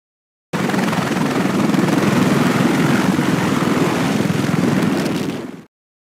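A Sikorsky CH-53K King Stallion heavy-lift cargo helicopter in flight gives a loud, steady, dense rotor and engine roar that holds for about five seconds, then cuts off abruptly.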